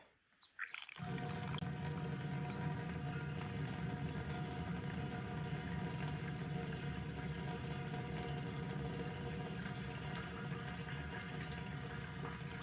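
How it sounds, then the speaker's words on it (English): Diluted washer fluid pours in a steady, continuous splashing stream into a big ball, holding constant from start to finish, with faint bird chirps in the background. "I'm pouring diluted washer fluid into this big ball"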